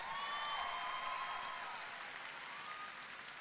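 A concert audience applauds at a grand concert, a dense, steady wash of clapping that starts loud and slowly fades over a few seconds, with no voices on top.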